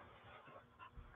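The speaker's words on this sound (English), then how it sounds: "The doggy's got to go out." A pet dog whimpers and pants indoors, wanting to be let out; soft, close whines and breathy sounds come in uneven bursts with a slightly louder yelp near the end.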